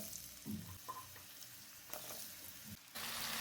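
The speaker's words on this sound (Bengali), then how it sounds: "চুলা লো ফ্লেমে রেখে ফ্রাই করে নিচ্ছি।" Carrot pieces frying in hot oil in a pan over a low flame, a soft steady sizzle with a few brief clatters and stirring bumps, growing a little louder near the end.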